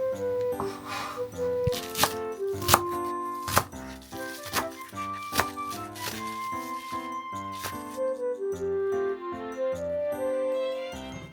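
A knife chops tomato and mizuna on a cutting board for salad in uneven sharp knocks, over a light background melody, with no talking.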